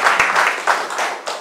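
A gathered crowd claps together at an evening meetup, brief, fairly loud bursts of many hands overlapping in an uneven patter.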